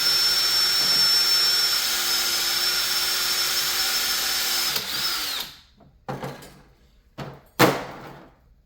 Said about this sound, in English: I'm drilling this without pre-drilling it.